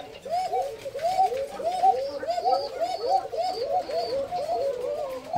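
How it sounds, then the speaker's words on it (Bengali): Young adult white Koka pigeons coo continuously up close, their soft, rolling calls overlapping in a steady rhythm without pause. "এগুলো আমার সাদা কোকা কবুতর, এদের এটা নিউ অ্যাডাল্ট ডাকছে"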